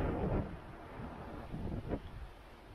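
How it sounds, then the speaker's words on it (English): Winter wind gusts in Montreal rumble faintly against the microphone in soft, uneven swells, with no voices. "Oh, there's that wind again."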